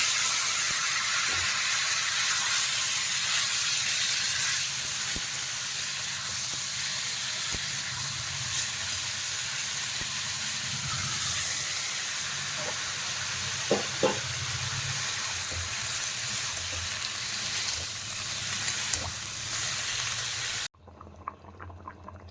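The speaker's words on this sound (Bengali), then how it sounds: "সব কিছুকে ভালো করে একটু ভাজিয়ে নিচ্ছি।" Chili and cumin powder frying in a pan before boiled potatoes go in, a soft continuous bubbling sizzle with a few stirring clicks, close and unaccompanied by talk, cutting off abruptly near the end.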